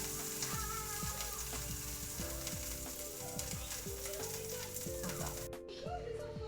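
Steak frying in oil in a pan gives a steady, close sizzle throughout, with faint clinking and scraping layered over the crackle.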